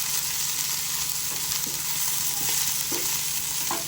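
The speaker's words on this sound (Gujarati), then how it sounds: "તો હવે આપણે પહેલાં એમાં લીલું લસણ નાખી દઈશું. તો લીલા લસણને આપણે ફેરવી લઈએ." Green garlic fries in hot oil in a pan while being stirred, giving a steady loud sizzle with light scraping touches and no talking.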